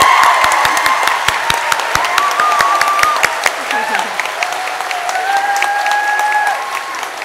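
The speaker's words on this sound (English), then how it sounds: "give Mrs. Kenny a wonderful round of applause as well" A youth audience at a Riverdance performance gives a sustained round of applause, dense steady clapping throughout with faint voices mixed in the crowd noise.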